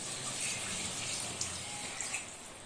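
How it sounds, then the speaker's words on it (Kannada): Water poured from a glass onto rice in a pot, a steady close gushing splash running throughout with a few small bumps, no talk. "ನೀರು ಹಾಕ್ಕೊಂಡು ಚೆನ್ನಾಗಿ ಮಿಕ್ಸ್ ಮಾಡ್ಕೋಬೇಕು."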